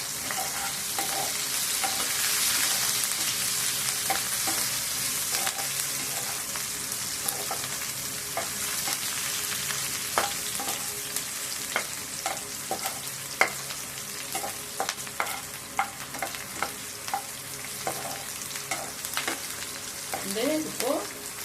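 Chopped onions fry in oil in a pan, a dense steady sizzle with frequent clinks and scrapes of a spoon stirring, close and loud throughout.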